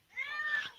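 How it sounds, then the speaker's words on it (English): A single cat meows once, a drawn-out, fairly faint call rising and falling over a quiet background. "I don't know if you can hear a cat meowing in the background."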